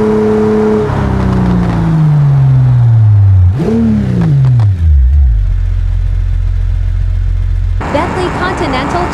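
Convertible sports cars such as a Ferrari Portofino and a Porsche 911 in a brake test: a loud engine roar falls sharply in pitch as the car slows, settles into a low steady hum, then a fresh burst of engine noise starts up near the end.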